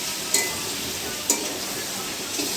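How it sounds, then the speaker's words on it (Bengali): Chicken pulao masala being sautéed in a pan over medium-high flame, a steady soft sizzle with a few spoon scrapes and clinks against the pan, close and moderately quiet, with no talking. "এটাকে ভালো করে কষাবো"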